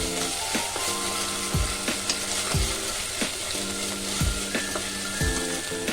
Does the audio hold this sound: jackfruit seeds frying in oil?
yes